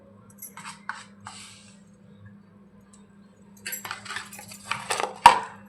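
A spoon stirs spiced chicken with yogurt and Malvani masala in a cooker pot, giving a few scattered metallic clinks and scrapes, then a busier run of clattering near the end.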